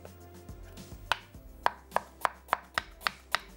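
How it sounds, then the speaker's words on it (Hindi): A knife roughly chopping sliced onion on a board: about eight sharp, evenly spaced chops, close and crisp, with no talking. "इसको स्लाइस करके हमने रफली सा चॉप कर लेना है"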